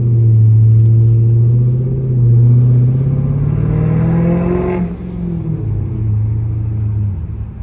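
A Dodge Charger SRT8 V8 engine drones loudly from inside the car while driving through suburban streets, a steady low rumble that rises under acceleration, then dips and settles as the pitch drops.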